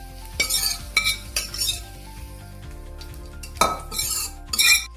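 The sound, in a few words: hot tadka tempering added to koshimbir salad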